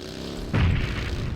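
A grenade explodes in PUBG Mobile, a single deep muffled boom that swells suddenly midway and rumbles low before fading into the game's background noise.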